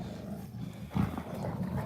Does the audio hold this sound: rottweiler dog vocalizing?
yes